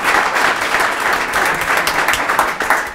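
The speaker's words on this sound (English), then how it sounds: "Let's give them all a round of applause for their advice and feedback." Brief burst of steady audience applause at a live-streamed education event, close, lively clapping filling the whole moment with no voices.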